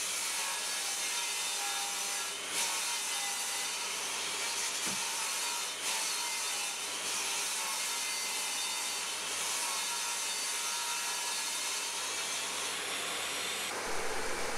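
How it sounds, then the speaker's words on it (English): Saw ripping down wooden strips for the sides of a bench, a steady continuous cutting whir with rubbing wood texture running unbroken for the whole stretch, with no voices. "I want to rip down two strips to go on the side of the bench"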